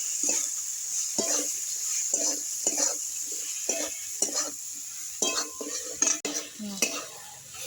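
A spoon scrapes and stirs spices with ginger-green chilli paste and vegetables in a pan for an elephant-foot-yam stalk curry, making repeated rhythmic scraping strokes over a soft background sizzle, with no talk.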